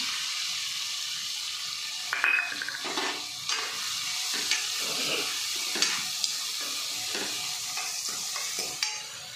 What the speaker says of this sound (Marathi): कांदा असा थोडासा लाल होईपर्यंत परतून घ्या